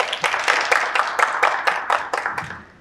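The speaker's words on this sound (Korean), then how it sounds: "박수 부탁드립니다." A small conference audience clapping in a steady, even rhythm for a few seconds, close and fairly loud.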